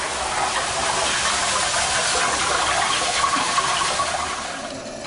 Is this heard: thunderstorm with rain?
no